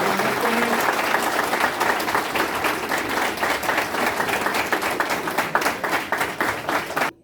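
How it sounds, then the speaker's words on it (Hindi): Loud, sustained applause from an audience at an inauguration of free coaching classes at NIEPVD, welcoming a chief guest, dense clapping filling the room steadily for several seconds before stopping abruptly. "एक बार जोरदार तालियों से स्वागत करें।"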